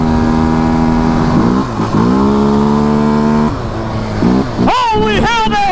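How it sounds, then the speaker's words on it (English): A CanAm DS450 quad's engine revs hard against the rev limiter, its loud steady buzzing note holding, dipping briefly and climbing again through power shifts, ending in a rising wail. "Hit that rev limiter!"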